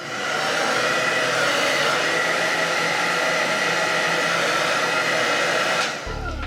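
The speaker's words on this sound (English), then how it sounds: "now that I have my lovely Eon hair dryer, I just put it on cool" An Eon hair dryer on its cool setting blows as a loud, steady whooshing hum close by, running continuously before cutting off abruptly near the end.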